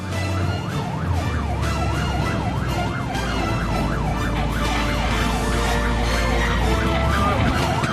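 A fire engine siren wails in repeated rising and falling sweeps while the truck drives toward a mountain fire, loud and close over constant road and engine rumble.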